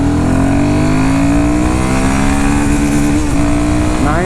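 A Royal Enfield Himalayan 450 motorcycle revs hard in one gear toward 9000 RPM, a loud, close engine whine climbing steadily in pitch and briefly dipping near the end, with no talking.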